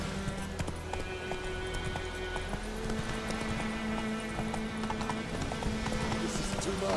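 Horse hooves clip-clop steadily in The Witcher 3: Wild Hunt, an open-world action game on PC, a continuous rhythmic beat at close range over a humming game score background with faint speech.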